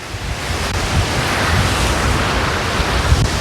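Strong storm wind buffets the microphone around an RV in steady broadband roaring gusts of up to 70 mph, loud and continuous with low thumps of buffeting throughout.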